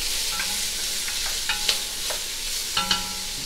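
Sweet onions sweating in avocado oil and butter in a pot for bouillabaisse, a soft continuous sizzle with a few light stirring scrapes and taps near the middle and end.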